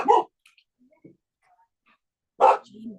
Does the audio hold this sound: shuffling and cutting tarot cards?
no